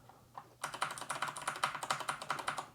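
Rapid, even keystrokes on a Keychron C2 hot-swap keyboard fitted with Gateron switches lubed with Krytox 205, a steady run of close, crisp clacks after a couple of soft taps.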